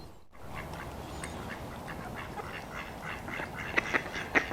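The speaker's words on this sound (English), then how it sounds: "We've got some ducks as well" Ducks quack from a short distance at Wellington Basins, Rockwell Green, in winter, over a constant outdoor background hiss, a few calls standing out near the end.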